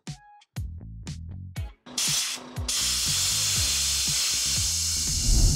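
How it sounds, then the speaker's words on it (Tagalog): A truck's air tank being drained of oil and moisture: a few short knocks, then a loud, continuous spraying hiss of air and liquid that holds steady to the end. "drain natin yung tangke to remove the oil and moisture"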